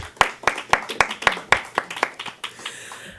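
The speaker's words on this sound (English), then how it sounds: "So let's give them a round of applause." Scattered clapping from a small audience greeting a music director and singer, about ten distinct claps in an uneven rhythm that thins out toward the end, with faint voices underneath.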